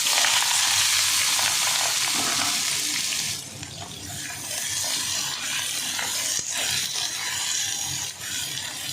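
Green chilies, potato and eggplant hit hot oil in a pan, giving a loud, steady sizzle and crackle with stirring that settles into a continuous fry.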